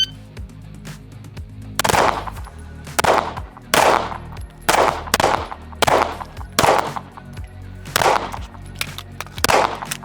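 Competition pistol shots from a Staccato XC and a Sig P211 GTO, about nine loud, sharp reports spaced roughly a second apart over steady outdoor background noise.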